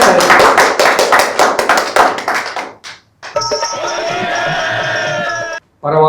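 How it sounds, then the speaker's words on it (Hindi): An audience at a Holi poetry gathering claps for an arriving poet, a loud burst of dense applause that thins into scattered claps, followed by a sustained amplified tone and a brief break. "जोरदार तालियों से उनका स्वागत करेंगे"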